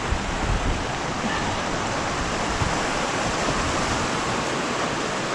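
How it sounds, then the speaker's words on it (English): Waterfall on Blackden Brook, on the north side of Edale Moor, pouring as a loud, dense, continuous rush of water that fills the whole moment evenly without pause. "Couple of nice waterfalls on here on Blackden Brook."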